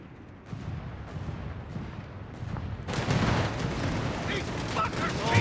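Anti-tank guns fire in Company of Heroes 3, a 1v1 match of US against Wehrmacht forces. Booming shots and battle noise sound over a low rumble, growing louder and denser partway through, with a voice speaking over it.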